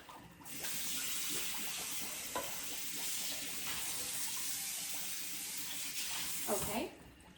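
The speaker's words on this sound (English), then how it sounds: "I'm going to drain, in my sink now" Hot water from blanching celery pours into a kitchen sink as one steady, loud, rushing gush that lasts several seconds and then cuts off.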